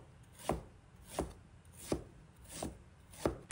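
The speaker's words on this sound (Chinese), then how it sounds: "再拿一块生姜，同样切成小块" Fresh ginger chopped into small pieces with a knife on a board, giving five evenly spaced, soft, close thuds about two-thirds of a second apart over a quiet background.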